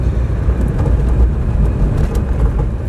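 An Alpine car with an 8-valve overhead-valve engine and twin-barrel carburettor cruises in fifth gear, a steady loud low engine drone with road rumble heard from inside the cabin.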